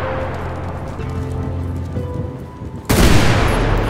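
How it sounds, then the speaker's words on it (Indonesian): A loud blast bursts out near the end of a stretch of steady rumbling and gunfire-like noise, the explosion set off in a GTA 5 zombie survival mod, leaving a broad roaring tail. "Bentar, gue ledakin dulu."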